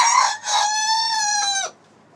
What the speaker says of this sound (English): There are 4 roosters here.